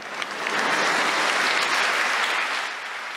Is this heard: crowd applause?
yes